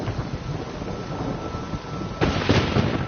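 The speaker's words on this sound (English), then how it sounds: "Storm, damn it." Thunderstorm in The Witcher 3: Blood and Wine, a low rumbling wash of wind and distant thunder that swells into a heavier roll near the end, with no talk.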